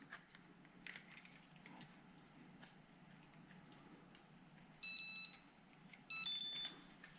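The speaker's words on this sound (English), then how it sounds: "that chime means you're taking too long" Two short electronic chimes from a drone calibration app, each a quick bright run of rising tones, sound close by over faint background rustling and room noise.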